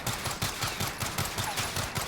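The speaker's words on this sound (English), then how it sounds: "We're going to shoot both guns straight up simultaneously into this little dude." Akimbo M19 pistols in the Warzone video game fired together, a fast, steady run of about a dozen loud, sharp shots over two seconds, close and alone.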